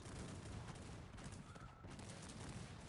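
Sustained, dense gunfire from Cossacks 3 troops shooting at a fence or wall in a real-time strategy battle; loud, continuous volleys crackle throughout the clip with no pauses.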